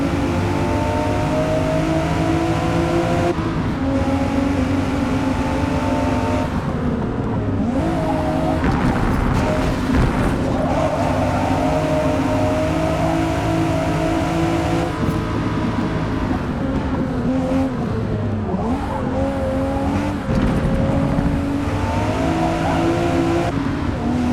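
Race cars in the Forza Motorsport video game roar continuously through tight racing, engines revving and shifting with repeated tire squeals and skids as cars pass close by, loud and unbroken throughout.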